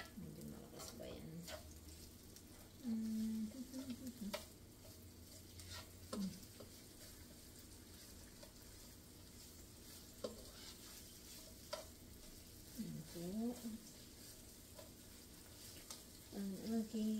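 Pansit noodles being stirred in a frying pan, a soft steady sizzle with intermittent scraping strokes of the utensil, close up, with a few brief voice fragments over it.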